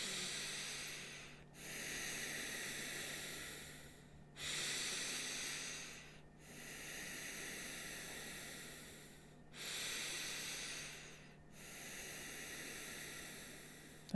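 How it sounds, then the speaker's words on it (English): Slow, deep breaths in and out during a guided meditation, breathy hissing swells repeating about six times in a steady rhythm, close and soft, with short quiet gaps between. "taking some deep breaths in, deep breaths out"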